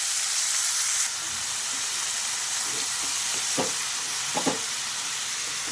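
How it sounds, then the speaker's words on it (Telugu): Washed spinach stirred in a frying pan gives a soft, steady hiss of frying, with a few brief clinks and scrapes of the spoon near the end; no voices. "ఇలా ఒకసారి అటు ఇటు కలిపి పాలకూర వేసినాక"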